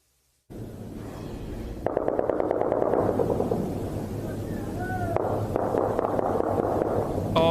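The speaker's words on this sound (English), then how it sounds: "As the sounds of gunfire echo through Kabul" Gunfire echoing through Kabul in a news report: rapid bursts of automatic fire and sharp cracks over a steady rumbling background, moderately loud and sustained throughout.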